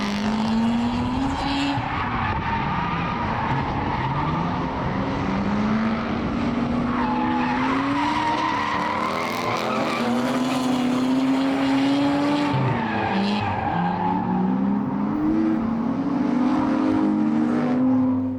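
Drift cars tear through laps at a daily drift event, engines revving hard and wavering while tires squeal and skid continuously, a loud sustained roar with shifting pitch and no talk.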